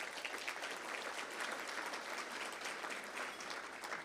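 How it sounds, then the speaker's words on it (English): Faint, distant applause from a civic audience at a city address event, a steady wash of many hands clapping without a break. "Yes, round of applause, please."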